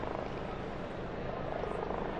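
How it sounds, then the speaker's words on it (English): Helicopters circle above a crowded square during a papal election, their rotors making a faint, steady, distant rumbling drone that continues throughout. "And you can hear the helicopters. You can Yes. hear them in the square now."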